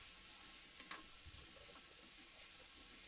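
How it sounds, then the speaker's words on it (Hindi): Onions sauté in a pan for an egg masala, giving a soft, steady sizzle with light stirring scrapes, close and fairly quiet. "अब कांदे को हम नरम होने तक सौते करेंगे"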